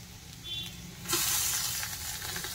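Potatoes frying in oil in a pan for a greens-and-potato dish: a soft background hiss that swells into a louder, steady sizzle partway through, close and alone.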